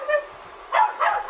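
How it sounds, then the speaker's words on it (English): A dog barks a few times at a pro wrestling event, short yelping barks in quick succession, moderately loud against a quiet background. "And of course, those dogs, once again"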